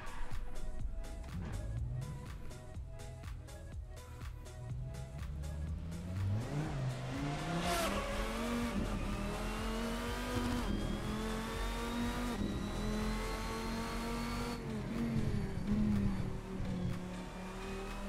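A race car engine in Assetto Corsa revs hard under heavy throttle, climbing and falling in pitch through gear changes with a loud, continuous whine and brief tire squeal, alone without talk.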